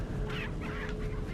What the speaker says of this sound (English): so you guys can keep on clucking about.